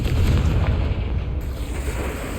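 A Confringo fire spell explodes in Hogwarts Legacy, a sudden booming blast followed by a rolling rumble that fades over a couple of seconds.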